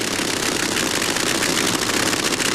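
Nitro-burning drag racing engines of about 4,000 horsepower each at a 1989 NHRA event at Sears Point International Raceway, a loud, dense, continuous roar filling the whole clip with no voices.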